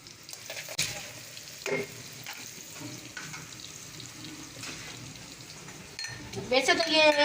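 Onions fry in oil for chicken biryani in a home kitchen with a soft steady sizzle, broken by occasional clinks and stirring. Near the end, louder rattling and scraping come in.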